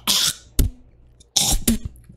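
Several sharp, loud coughs come in two close clusters, separated by a quiet pause. No one speaks.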